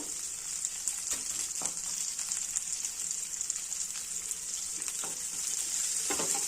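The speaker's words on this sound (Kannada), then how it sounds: "ಫ್ರೈ ಮಾಡ್ಕೊಳ್ಳೋಣ. ಈರುಳ್ಳಿ ಫ್ರೈ ಆಗೋಕ್ಕೆ ಸ್ವಲ್ಪ ಉಪ್ಪು ಹಾಕೋಣ." Sliced onions fry in a pan with a little salt, a steady bright sizzle throughout with occasional soft stirring scrapes, close and continuous with no talking.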